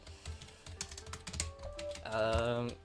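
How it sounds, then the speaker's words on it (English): Computer keyboard typing and mouse use while playing the puzzle video game Lingo, a run of quick, close clicks and taps mixed with game sounds and a tonal chime near the end. "you're not just using your keyboard, you're also juggling between mouse and keyboard"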